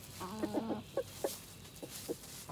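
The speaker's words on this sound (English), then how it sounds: "Here come the birds, the inspectors." Chickens cluck nearby in a yard being prepared for more birds, a short burst of repeated clucks followed by scattered single clucks, fairly quiet with no talking.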